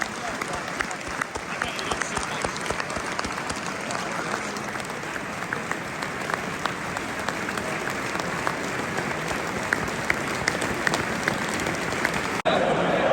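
Stadium crowd at a Sunderland versus Hull City football match applauding in tribute before kickoff, a steady, dense wash of clapping from thousands of hands, loud and continuous throughout.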